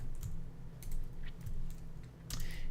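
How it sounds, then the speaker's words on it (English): Computer keyboard typing, soft quick bursts of key clicks in short clusters, close and faint, with no one talking. "And over here I'll type in C Sharp."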